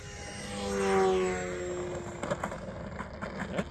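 An FMS Maule radio-controlled model airplane, a small electric propeller plane, comes in to land on grass, its motor whine swelling and fading close by before a few soft bumps and rustles of touchdown.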